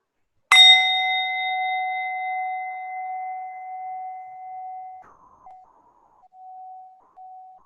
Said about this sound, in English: I'm just going to chime this, and I want you to see about listening until the end of the tone